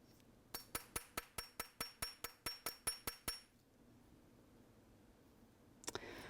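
A small hammer lightly tapping a wire earwire to harden it, about a dozen quick, even metallic taps close up, then quiet, followed by a couple of faint knocks.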